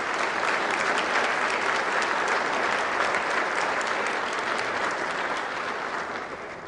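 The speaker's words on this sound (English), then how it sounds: "let's give them a round of applause as well" Audience at a centennial ceremony applauds in a sustained, even wash of clapping that stays loud for several seconds and eases slightly at the end.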